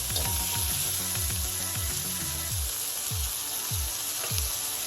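Singapore noodle ingredients stir-frying in a pan make a bright, steady sizzle with a run of repeated low knocks and swishes from the stirring, close by and without speech.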